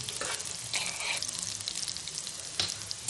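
Curry leaves and garlic sizzle in hot oil in a kadai, a steady close crackling hiss with occasional sharper pops and stirring scrapes.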